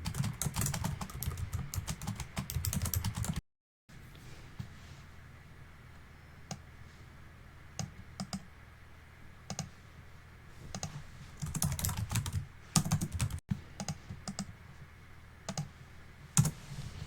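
Keys on a computer keyboard clatter in quick irregular bursts of typing, with pauses and a brief silent gap, close and fairly quiet, as a question is typed for a password reset request.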